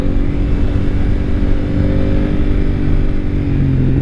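A 220 kg motorcycle engine revs steadily and loudly close by in the Serra da Estrela, Portugal, its low rumble holding a constant, throaty drone throughout.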